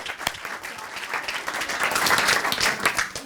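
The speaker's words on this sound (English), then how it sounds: "we'll give Tom a round of applause" An audience claps steadily, a dense burst of applause that swells slightly and stays loud throughout, with no talk over it.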